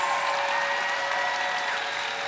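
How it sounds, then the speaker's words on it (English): An audience at Minecon 2013 claps in a steady, dense round of applause that holds at an even level throughout, with a faint whistle early on and no speech over it. "would you please give them a huge round of applause?"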